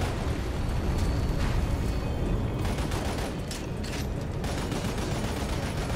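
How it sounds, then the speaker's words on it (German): An exploding creature and bursts of gunfire from the Xbox 360 shooter Lost Planet: Extreme Condition, a dense, loud, continuous barrage of blasts and rattling shots with no talk over it. "So, da ist ein explodierendes Vieh."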